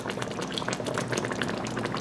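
Chicken jalfrezi with bell peppers simmers in a pan, giving a close, continuous bubbling and sputtering with no talk over it.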